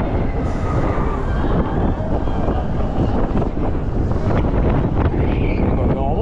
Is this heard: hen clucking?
no